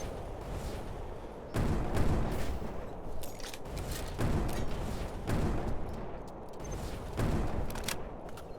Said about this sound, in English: Tiny little explosions.